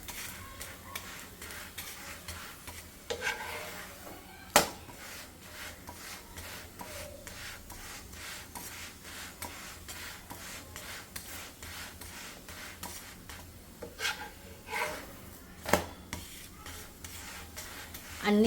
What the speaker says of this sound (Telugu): సో ఇలా కదుపుతూ 2 సైడ్స్ బాగా మీడియం ఫ్లేమ్లో అయితే కాల్చుకోవాలన్నమాట.